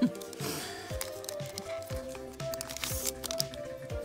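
A Pokemon Sword & Shield Rebel Clash booster pack has its foil wrapper torn open close by, with crinkling and tearing bursts over low handling noise, no talk.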